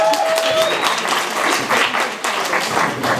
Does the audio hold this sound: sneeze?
no